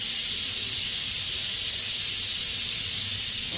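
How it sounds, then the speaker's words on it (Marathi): A pressure cooker releases steam through its whistle in a home kitchen while rice cooks, making a loud, continuous hiss that holds steady for the whole stretch. "तर बघू शकता इथे माझ्या कुकरची पण शिट्टी"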